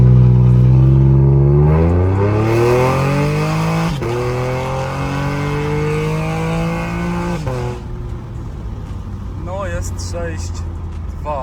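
A Chevrolet Camaro engine revs up and the car pulls away hard, pitch climbing steadily through the gears, loud and close, with a brief shift partway.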